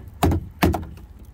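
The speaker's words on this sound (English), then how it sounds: "if I knock that filler out" Two sharp hammer knocks on a panel of a rusty Talbot Express campervan as filler is struck out, the blows hollow and close together and followed by faint rattling.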